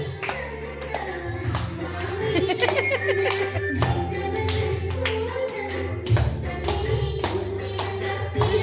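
Hands clap in a steady rhythm, close and fairly loud, alongside a child and adults singing and chanting a devotional song at home.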